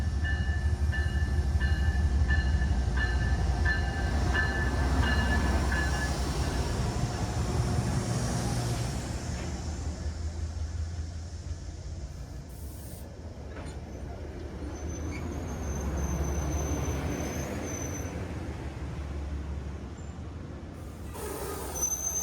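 Metro-North Waterbury Branch train with Bombardier Shoreliner cars departing, a deep diesel rumble loud at first, fading as the cars roll away, with rail clatter, brief high squeals and quieter steady running noise.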